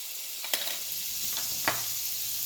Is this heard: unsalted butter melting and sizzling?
yes